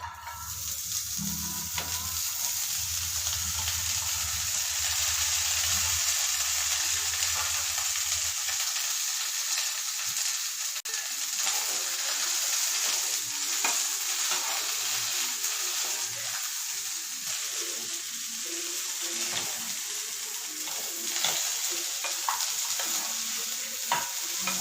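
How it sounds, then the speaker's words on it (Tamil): Okra (lady's finger) fries in a hot pan for a vendakka gravy, making a steady, close sizzle. A brief low rumble comes at the start, then comes a long run of crackling with occasional stirring scrapes and no talk. "பாத்திரம் நல்லா சூடானதுக்கப்புறம் வெண்டைக்காய் அதில் போட்டு நல்லா ஃப்ரை பண்ணணும்"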